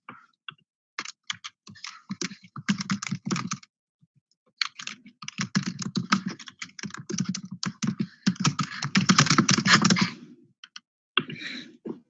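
Close, clear typing on a computer keyboard, with quick bursts of key clicks separated by short pauses and a steady flurry of keystrokes toward the end.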